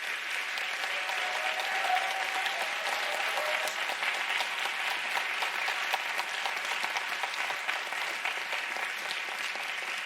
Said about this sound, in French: On peut d'ores et déjà les applaudir et les motiver.